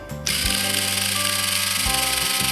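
A Scholl electric pedicure foot file switches on with a short burst and then runs continuously with a loud, steady mechanical whir and buzz close by, with no talking.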